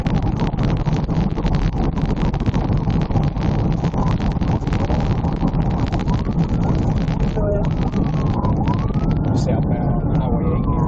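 Police car siren wails during a high-speed pursuit of a gray GMC on a rainy highway, heard from a dashcam under loud road and engine rumble, with a voice talking over it.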